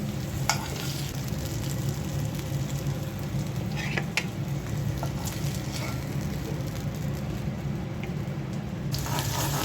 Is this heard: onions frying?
yes